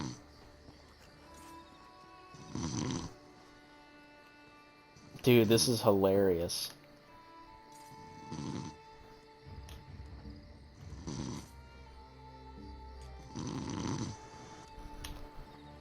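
A player's loud snoring comes through voice chat during an Elder Scrolls Online game stream, with several heavy snores spaced a few seconds apart and people talking and laughing between them.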